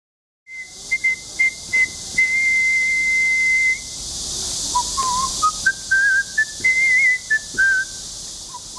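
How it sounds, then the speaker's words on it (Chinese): A man aged 57 whistles a melodic tune in clear, sustained notes, first holding a steady high pitch, then moving through a lower, stepping phrase with short breaks between notes, alone against a faint hiss. "平常就喜欢吹吹口哨"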